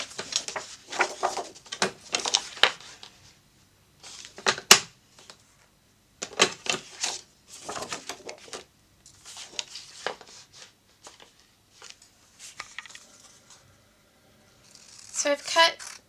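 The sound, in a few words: cutting large pattern paper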